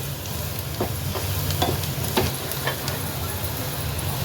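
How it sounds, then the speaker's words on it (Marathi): Turmeric and masala sautéing with onions in hot oil for a spicy egg masala, a close, steady sizzle broken by repeated clicks and scrapes of a spoon stirring in the pan. "हळद आणि मसाला छान ह्या कांद्यामध्ये परतून घ्यायचा आहे"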